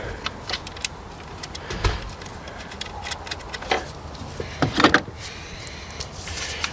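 Faint metallic clicks and small taps come from a nut being spun onto the alternator terminal post of a 2009 Ford Fiesta, scattered over a low background hum.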